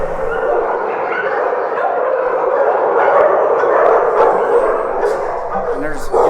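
Pit bull mix dogs at a Lubbock animal shelter bark, yip and whine together in a loud, continuous chorus echoing close by.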